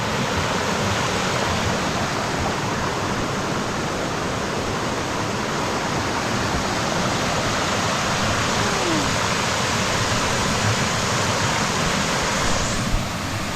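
A waterfall roars continuously, a loud, dense rush of falling water with no pauses.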